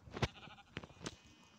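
Sheep bleating in the Minecraft video game, a few short wavering bleats in quick succession, close and fairly loud, with no talk over them.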